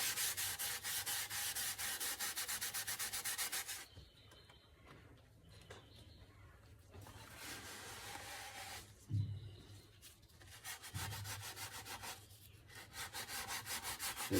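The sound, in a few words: wiping guitar finish off with denatured alcohol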